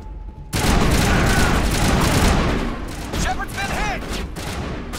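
Dense rapid gunfire from a shootout in Mass Effect 1 Legendary, loud and nearly continuous, with sharper weapon effects and whooshing tones toward the end.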